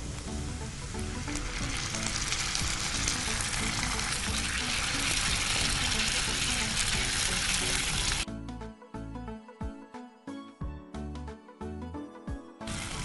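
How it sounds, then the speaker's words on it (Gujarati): Onions sauté in a pan toward light brown for paneer masala, making a loud, continuous sizzling hiss for most of the stretch before it gives way to a rhythmic, clattering sound. "હવે ડુંગળીને સાધારણ બ્રાઉન જેવી થાય ત્યાં સુધી સાતડવાની છે."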